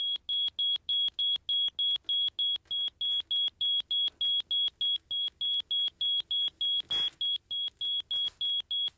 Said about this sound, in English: a smoke alarm can detect the smoke even when you can't